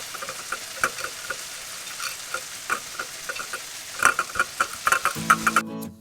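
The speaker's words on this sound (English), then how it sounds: "Mix it well and I'm going to saute this on medium flame for around 3 minutes." Curry leaves, coriander and ginger sautéing in a pan over a medium flame: steady close sizzle with sharp crackles and pops scattered throughout, thickening near the end alongside a few clinks of a stirring spoon.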